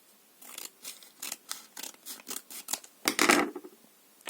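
Scissors snip through a glued plastic packet in a series of about ten crisp, rhythmic cuts, close up, ending in a louder rustle of plastic, with no voices.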